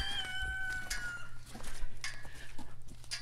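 Chickens cluck and a rooster crows inside a farm coop in the morning, several birds calling over one another in bursts, close and fairly loud.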